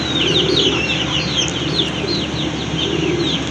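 Pigeons kept alongside chickens fill the space with continuous soft cooing and chirping calls, layered bird chatter close by over a low steady background hum.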